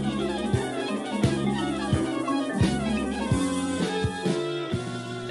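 Electrocomp synth and marimba play a line together, a busy run of bright mallet notes over sustained synth tones with frequent sharp attacks, close and steady.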